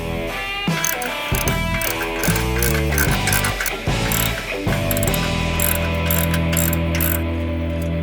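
An Allen key with a crescent wrench loosening a muffler bolt on a Milwaukee 8 Softail Fat Bob, loud close ratcheting and grinding metal clicks in repeated strokes, with a sustained mechanical squeal and hum underneath.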